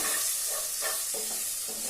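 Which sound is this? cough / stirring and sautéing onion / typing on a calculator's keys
stirring and sautéing onion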